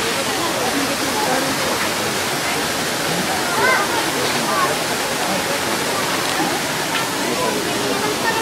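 A waterfall in Vorontsov Park roars as a continuous dense broadband rush of falling water, loud and steady throughout, with faint voices of people nearby beneath it.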